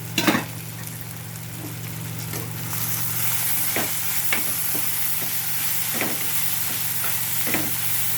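Tomatoes frying in a pan of oil, giving a steady sizzle throughout with a few sharper clinks and scrapes as a spoon stirs them, close and moderately loud with no talking.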